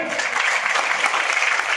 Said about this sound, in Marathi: टाळ्याच्या गजरात आणि मोठ्या टाळ्या